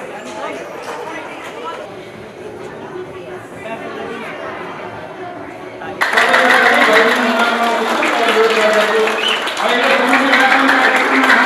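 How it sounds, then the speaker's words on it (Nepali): Audience at a Nepal Kempo Khukuri Federation opening ceremony bursts into loud, dense applause about halfway through, swelling sharply over steady crowd chatter and a talking voice, then holding strong to the end. "सम्पूर्ण खेलप्रेमी साथीहरू खेलाडीहरू भाइ बहिनी सम्पूर्णले उठेर ताली बजाएर चाहिँ उद्घाटनमा सहयोग गरिदिनु म विनम्र अनुरोध गर्दछु"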